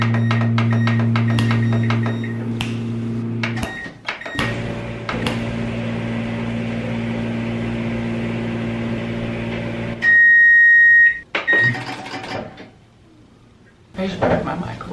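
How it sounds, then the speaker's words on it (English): A household microwave oven hums steadily for several seconds, then gives a long, loud beep, followed by a few clunks like its door opening and closing, ending with quieter room noise. "I just broke my microwave."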